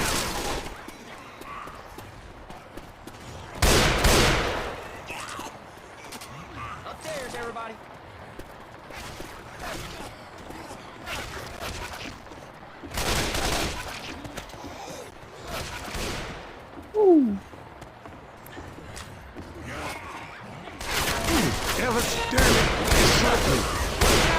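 Gunfire in the VR shooter Left 4 Dead 2 VR: loud, broadband bursts of shots come in separated volleys, with a long sustained barrage near the end. Voices talk throughout under the game noise.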